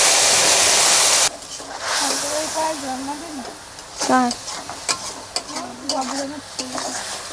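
Onion, ginger and garlic paste hits hot oil already tempered with five-spice and dried chillies, giving a loud burst of sizzling that settles into steady frying hiss with stirring scrapes, while a voice talks over it.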